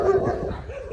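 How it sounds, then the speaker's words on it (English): A dog gives a single short, close bark with a whimpering yip, loud and abrupt, heard alone. "People have dogs, they start barking and stuff."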